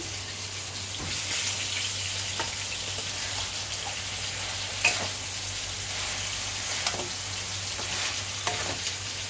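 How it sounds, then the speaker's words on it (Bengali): Potatoes frying in a pan with small shrimp, onion and spices. A steady sizzle runs throughout, with scattered stirring scrapes and clinks and no voices. "আলুগুলো, আলুগুলো দিয়ে দিচ্ছি।"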